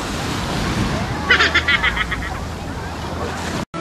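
Steady rush of surf washing in on a beach at Morong, Bataan, mixed with wind buffeting the microphone and faint muffled voices, ending in a brief dropout.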